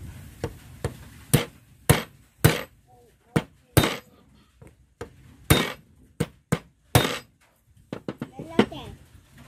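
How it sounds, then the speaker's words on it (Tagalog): Sharp metallic hammer strikes drive a starter bendix drive into place through a socket on a Mitsubishi L300, about a dozen irregular blows, some in quick pairs, close and loud, with faint talk between. "kailangan natin itong pukpukin pa papasok ito. Gumamit lang na tayo ng socket."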